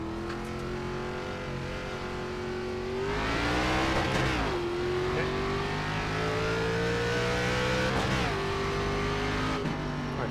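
A car in the iRacing sim pulls away in first gear toward 50 mph, its engine droning steadily and rising in pitch with two brief dips as it climbs, loud and continuous with no voices.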